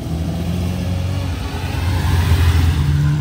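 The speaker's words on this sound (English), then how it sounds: "That noise is an FXX that you can kind of see through the bush." A Ferrari FXX engine revs nearby, partly hidden behind bushes, with a loud rumbling roar that builds and swells toward the end.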